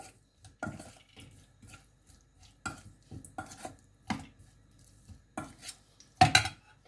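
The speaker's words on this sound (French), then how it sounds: "On va prendre notre ail et gingembre. On va mélanger." Garlic and ginger being mixed with shrimp and spices in a bowl, with scattered scraping and tapping of a utensil against the bowl, quiet and close, in short irregular bursts with pauses between them.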